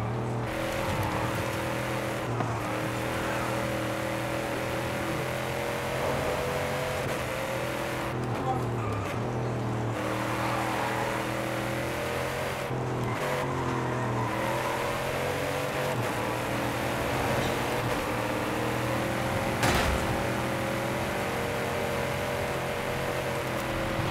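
Racing-game car engine from Forza Horizon 5, a Range Rover Sport or SRT Jeep 392 driven from the driver's seat, holding a steady loud drone with shifting pitch as it revs and cruises, continuous throughout with brief dips.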